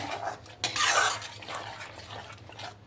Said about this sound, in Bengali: পুরোটা ভালো করে খুন্তি দিয়ে নাড়িয়ে আবার একটুখানি সময় দেব